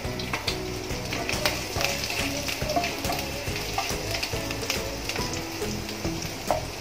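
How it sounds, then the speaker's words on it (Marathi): Green chili frying in hot oil in a paneer chili pan, a loud, dense crackling sizzle with rapid popping spatters, steady throughout. "त्याच पॅन मध्ये मी तेल टाकले। आता आपण ही मिरची घालूया।"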